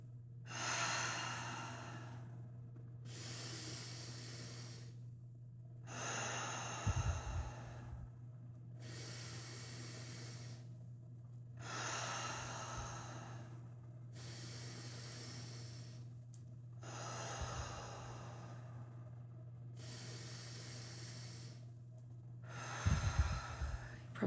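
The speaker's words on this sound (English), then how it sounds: "Breathe into your diaphragm." Deep belly breathing during a guided breathing session: slow, regular inhales and exhales repeat about every three seconds, close and airy, with a low steady hum beneath and occasional soft thumps.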